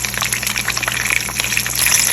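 Prepared tomatoes tipped into a hot pan to fry for chicken chapli kebab, a loud close wet hiss and sizzle that swells slightly toward the end, with no voice over it.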